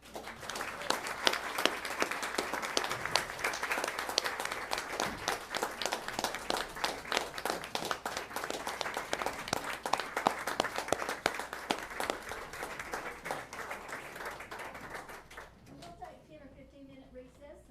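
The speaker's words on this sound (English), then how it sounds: "We want to give one more round of applause in recognition of all these wonderful people" A long round of applause for retiring middle school staff at a school board meeting, many hands clapping steadily for about fifteen seconds before fading out as some low chatter and a whistle-like tone follow.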